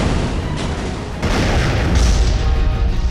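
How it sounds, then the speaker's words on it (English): Cartoon ship cannons fire at a giant pufferfish, a burst of loud booming blasts that roll into one another, with sharp onsets near the start and middle and a heavy rumbling tail. "Cannons! Fire the pufferfish!"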